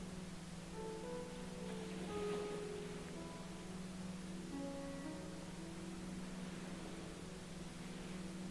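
Steady pink noise fills the whole stretch as an even, unbroken hiss with a low hum beneath, paired with soft sustained ambient tones that drift in and out.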